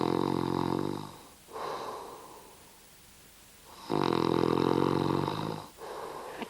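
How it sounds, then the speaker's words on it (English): Two loud, rasping snores separated by a quiet pause, each a long harsh inhale with a rattling texture, close and with no talking. "imagine if your partner snored so badly that you had to sleep apart."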